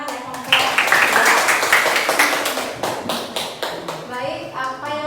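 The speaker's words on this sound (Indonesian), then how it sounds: "Kasih tepuk tangan ya kelompok." A classroom group claps together in a quick, rhythmic run of close, crisp hand claps that gradually thins out, and a voice starts talking over the last claps.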